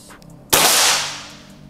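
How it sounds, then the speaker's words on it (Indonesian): A Brixton PCP air rifle fires a single sharp shot in an accuracy test, a loud close crack with a brief hissing tail that fades over about a second. "Tembakan yang ketiga."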